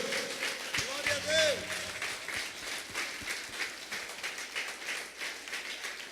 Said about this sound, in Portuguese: Se você pode aplaudir, faça isso ao Senhor.